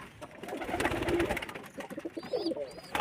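A pigeon held in the hand gives soft, close cooing over a low background murmur, with a few faint higher chirps near the end.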